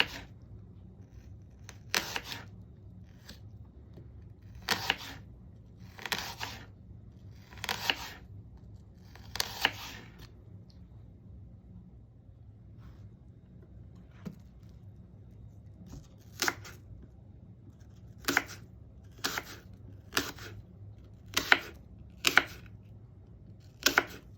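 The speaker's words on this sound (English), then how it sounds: "Then slice it very thin." A knife slicing an apple very thin on a board, a series of crisp separate cuts that come irregularly, some in quick pairs, against a quiet room.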